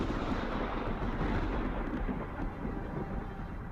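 In the video game Sons of the Forest, a lightning strike brings a deep, broad rumble of thunder that rolls on for a few seconds at moderate loudness and slowly eases off.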